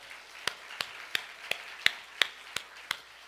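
Congregation clapping during a Sunday worship service at a Korean church, heard as a steady, evenly spaced series of sharp claps, about three per second, fairly quiet and without talk.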